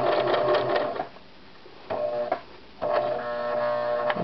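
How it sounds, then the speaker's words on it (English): A sewing machine stitches the bottom seam of a messenger bag in three close, clattering bursts separated by short pauses, with no talking. "So now I'm sewing along the bottom of the bag"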